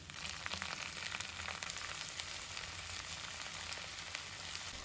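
Cabbage tipped into a hot frying pan already holding onion: a dense, continuous close sizzle and crackle of frying with no voices.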